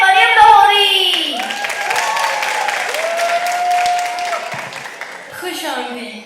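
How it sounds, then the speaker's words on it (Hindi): Audience clapping for a woman poet at a children's comic mushaira in Stockholm, a steady crackle of applause running under a presenter's voice. "आपकी तालियों में मरियम लाहौरी।"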